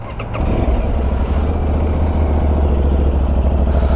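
An Aprilia Tuareg 660 adventure motorcycle fires up and settles into a loud, close, steady idle with a deep, even thrum.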